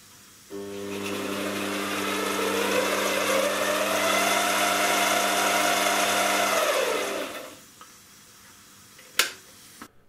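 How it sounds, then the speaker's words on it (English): A lathe running in reverse gives a steady motor whine with strong humming tones that rises, holds for several seconds and winds down, followed by a brief sharp knock. "We have a working lathe."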